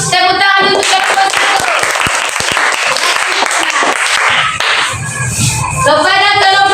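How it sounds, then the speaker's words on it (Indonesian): A group of students claps for a classmates' group during an Islamic religious studies lesson, loud sustained applause from a nearby classroom crowd filling the whole stretch, with a brief dip before swelling again. "Kasih dulu tepuk tangan untuk kelompok"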